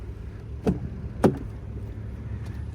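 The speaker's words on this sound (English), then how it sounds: "just that door thunk noise is phenomenal" Two solid thunks from a 2015 Volvo XC70 T6 AWD door being shut, close and fairly brief, about half a second apart over a low background hum.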